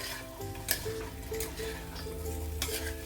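Fried cauliflower stirred in masala in a pan, with a steady close sizzle under intermittent scraping strokes of a spatula and a few light clinks against the pan.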